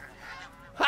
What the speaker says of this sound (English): Shoot the goose.